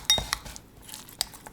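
A silver spoon clinks against a dish while preparing chicken spiedies, with a few sharp, close metallic taps spaced out over a quiet kitchen background.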